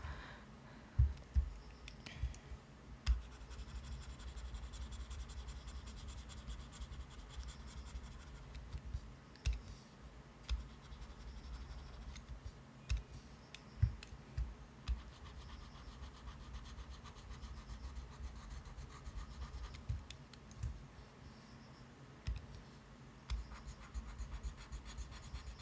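Stylus scratching and rubbing across a digital drawing tablet's surface while sketching a picture, a steady soft scraping texture with occasional light taps and clicks, close and quiet, no voices.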